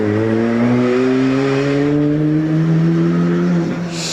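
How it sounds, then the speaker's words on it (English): Mazda MX-5 rally car accelerating hard off a hillclimb start line, its engine note climbing steadily in pitch through the revs, loud and close, alone without voices. "just leaving the start line, in fact, the Mazda MX-5 driven by Robin Depper"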